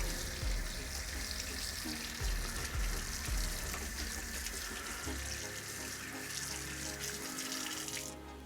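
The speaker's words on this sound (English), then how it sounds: "So we're just going to give them a little rinse." A sink tap runs steadily while fresh squid are rinsed under it: a constant, moderately quiet wash of flowing water with occasional splashing, with no talk.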